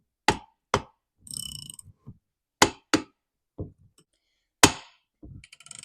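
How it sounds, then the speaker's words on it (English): A bearing is forced off the crankshaft of a Stihl MS 260 chainsaw during teardown, giving sharp, irregular metallic knocks and hammer-like strikes between brief scraping and rattling, close and fairly quiet. "What you're hearing right now is the bearing coming off the crankshaft."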